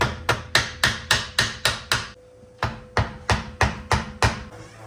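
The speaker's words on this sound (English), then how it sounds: "this stub shaft should just pop out with a hammer and bar" A hammer strikes a bar against the stub shaft of a Cadillac CTS in a steady series of sharp, ringing metal blows, about a dozen in all, with one short pause partway through.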